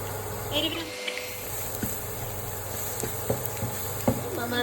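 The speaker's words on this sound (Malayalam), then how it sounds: "നമ്മൾ ജസ്റ്റ് ഇങ്ങനെ ഇളക്കി കൊടുത്തോണ്ടേ ഇരിക്കുക" Spiced vegetables dusted with chili powder are stirred in a pan, giving faint scattered scrapes and soft taps over a steady low hum.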